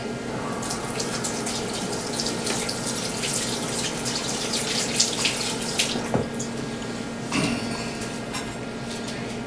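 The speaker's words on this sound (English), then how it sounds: "now I'm going to rinse my hands off" Running water from a kitchen tap splashes steadily as hands sticky with apple crisp topping are rinsed under it, a continuous close rush with a few small clatters and no talking.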